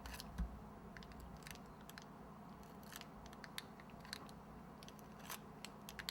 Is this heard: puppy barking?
no